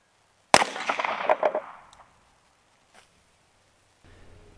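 A 9mm bullet strikes a lead target with one sharp, loud crack that rings and rattles for about a second before fading, followed by quiet and a faint low hum.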